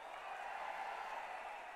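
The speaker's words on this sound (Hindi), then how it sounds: "तालियों की गड़गड़ाहट से" A crowd at a corporate gathering applauds in a brief, steady wash of dense clapping at moderate volume, with no other sound standing out.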